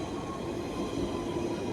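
A London Underground Central Line train rumbles steadily nearby, a continuous low roar of wheels on track with a faint high whine, no voices.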